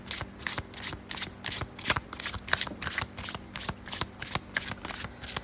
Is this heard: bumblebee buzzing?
no